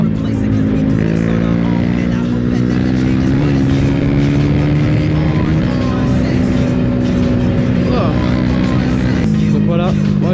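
KTM 390 Duke single-cylinder motorcycle engine revving with a quick blip of throttle, loud and close, rising and falling in pitch while someone talks over it.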